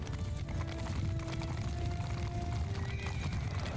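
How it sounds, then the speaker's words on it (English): Cavalry horses gallop in a Mount & Blade II: Bannerlord battle, a dense, continuous drumming of many hooves with scattered whinnies and a sustained low rumble, loud and close throughout. "Cavalry move up. Horse archers move up."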